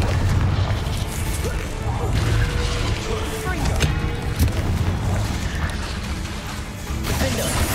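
A Bombarda spell explodes during a Hogwarts Legacy duel, with thudding booms and crashes over steady, noisy combat sound that runs throughout.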